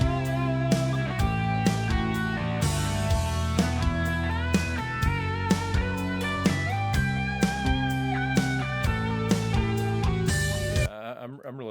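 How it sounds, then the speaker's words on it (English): Bass guitar in a mixed band track with extra bottom end, a full low line under drums and other instruments, steady and loud before stopping abruptly near the end. "A little extra fullness out of the bass guitar"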